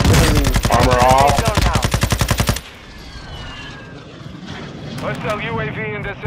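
Rapid automatic gunfire in Call of Duty: Modern Warfare II, a loud sustained burst lasting a couple of seconds, then quieter game ambience with voices.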